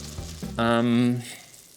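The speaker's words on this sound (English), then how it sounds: "I'm also gonna get some shallots and garlic going in there" Shallots and garlic fry in a pan with a soft, steady sizzle, while a short voiced sound rises over it for about half a second.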